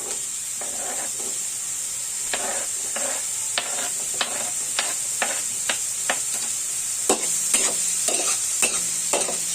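Hotdog stir-fries in a hot pan for mixed vegetable fried rice: a steady high hiss of frying broken by repeated utensil scrapes and clatters, close and fairly loud, no speech.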